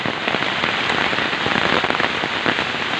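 Heavy rain mixed with large hailstones pours down over a village, a dense, loud, unbroken hiss with scattered sharp impacts peppering the wash throughout.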